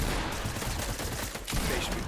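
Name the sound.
sniper gunfire in the video game Fortnite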